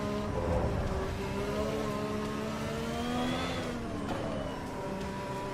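Volvo S60R engine in a driving simulator game, a steady droning rev that climbs and falls in pitch with gear changes, continuous and fairly loud without any talk.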